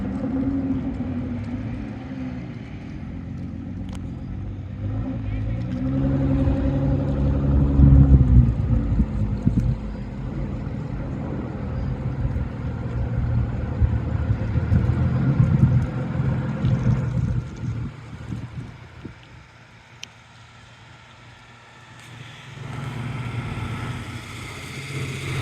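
An air-cooled vintage car engine idles and revs at Summit Point Raceway, a low, rumbling drone that swells and fades over wind noise, with brief quieter gaps.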